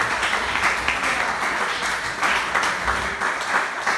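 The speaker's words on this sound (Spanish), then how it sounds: "Un aplauso bien grande al Señor Jesucristo." Steady applause fills a church service for four seconds, dense continuous clapping from a large congregation with no talking over it.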